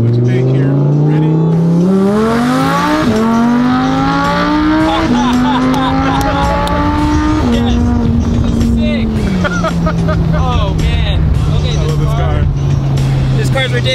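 A Ferrari Enzo V12 engine roars up through the gears from a standing start, rising revs broken by quick shifts, loud and close inside the car, while people exclaim over it.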